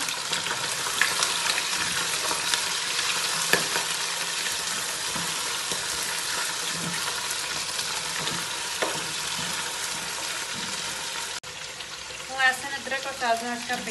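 Chicken for biryani sizzles and fries in a pan, a dense, continuous crackle that stays loud throughout; the tone shifts near the end as a voice comes in over the frying.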